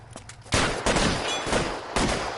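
Shotgun blasts in L.A. Noire, three or four loud booming shots in quick succession, close and forceful, each trailing a brief rumbling decay.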